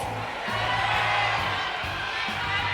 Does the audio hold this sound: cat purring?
no